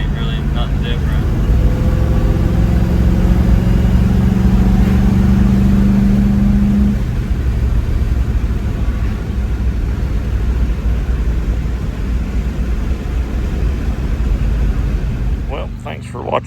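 V8-swapped Ford Ranger with dual exhaust and Thrush Hush mufflers, a steady loud low engine rumble idling and revving close by, with a rising tone midway and a voice talking over it.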